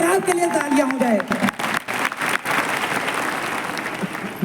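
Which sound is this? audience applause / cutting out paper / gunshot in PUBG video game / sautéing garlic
audience applause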